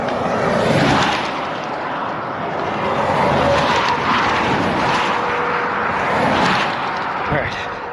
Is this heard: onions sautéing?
no